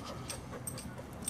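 A dog panting with faint whimpers: quick, soft, breathy pants close by, over a low background hum, with no voices.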